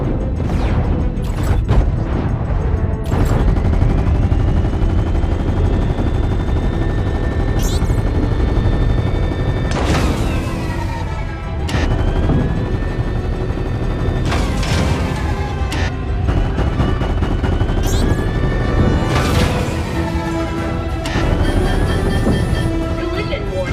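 Rapid weapons fire rattles through a sci-fi video game battle, loud bursts layered over a constant roaring engine drone with metallic impacts and sweeping whooshes.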